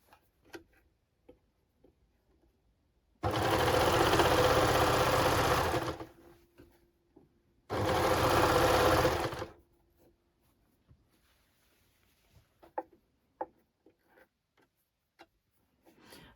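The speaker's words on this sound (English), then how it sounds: "I'm now going to overlock all around the top of the skirt panels, just to neaten it all off" An overlocker hums at high speed along the top edge of skirt panels in two solid runs, about three and two seconds long, separated by a pause. Faint ticks and small handling clicks are heard before and after.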